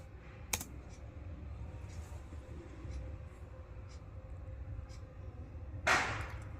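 Commands are typed on a computer keyboard into a local terminal connected to an AWS EC2 instance, with scattered light keystrokes over steady room noise and a louder clack of a key near the end, with no voices.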